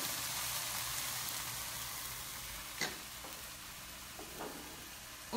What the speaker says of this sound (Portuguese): a gente vai deixar o vongole refogando aqui